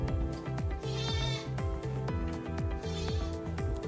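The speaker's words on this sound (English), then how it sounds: "Goats are a little angry." Agitated goats bleating along a roadside in Antigua, several overlapping calls in a quick, repeated rhythm, fairly close and loud, with no talking.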